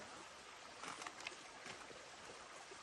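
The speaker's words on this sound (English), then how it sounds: "just the beautiful sounds of the flowing river" Soft, steady rush of a flowing river beside a backcountry campsite on the Ottawa Temiskaming Highland Trail, faint and continuous with no voices.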